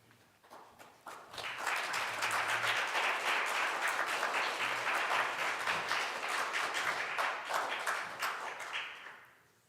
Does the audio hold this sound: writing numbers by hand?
no